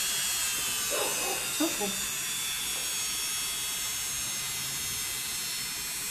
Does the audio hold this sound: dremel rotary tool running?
yes